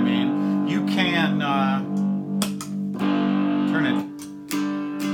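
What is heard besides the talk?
three-string cigar box guitar played with distortion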